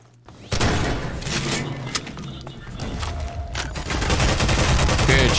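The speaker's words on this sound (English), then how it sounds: "Good shooting, Luckless." Gunfire in the video game Half-Life 2, a sustained burst of rapid shots and impacts that keeps going loud and dense with brief sharp cracks throughout.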